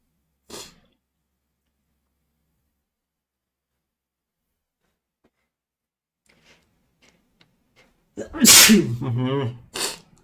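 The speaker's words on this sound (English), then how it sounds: "Today why am I sneezing?" A loud sneeze bursts out after a stretch of near silence, preceded by a short sharp sound and a few faint ticks, then one more brief burst.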